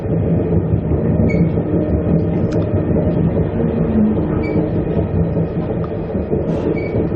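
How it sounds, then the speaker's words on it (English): A train rumbles steadily past nearby along the Tully to Brisbane line in Queensland, Australia, with a continuous low mechanical roar and faint squeals of wheels on the rails throughout. "There's another train."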